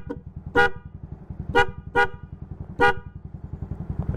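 Hella double disc horn fitted to a Yamaha Mio Sporty scooter, sounding four short, loud honks close by over the steady putter of the idling scooter engine.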